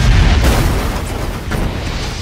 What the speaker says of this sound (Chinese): 又被坏老头炸飞了